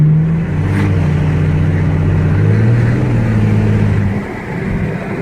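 A supercar engine heard with the windows down, a loud close rumbling drone that climbs in pitch, holds, then eases off near the end.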